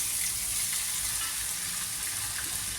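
Steady, close sizzle of potatoes frying in a pan as soaked sago pearls are tipped in for sabudana khichdi, a dense continuous hiss with faint stirring and no voices.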